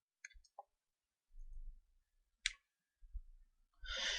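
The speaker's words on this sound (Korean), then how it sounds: "점 아이콘을 누르도록 하겠습니다." Sharp computer mouse clicks on CAD milling software, a few brief taps spaced apart in a quiet room, with faint soft handling noise.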